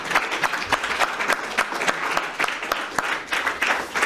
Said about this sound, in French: Je propose qu'on t'applaudisse.